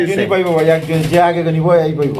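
Pigeons at a pigeon farm give low, steady cooing under someone talking loudly and continuously nearby.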